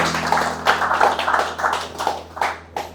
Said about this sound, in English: So how about a nice round of applause for Mark?